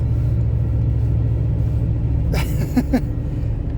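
A 2000 Dodge Ram truck recovered from fire damage rolls along with a constant low engine and road hum, then a few sharp rattling knocks come through near the end.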